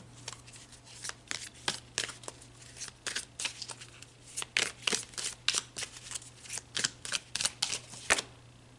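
Tarot cards shuffled by hand in a quiet room, a rapid run of crisp riffling bursts and soft slaps repeating steadily and up close, with a faint low hum underneath and no talking.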